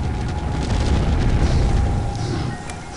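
Bombs exploding in American McGee's Alice, a continuous loud rumbling boom that swells and lingers for several seconds without a clear break, with no voices over it.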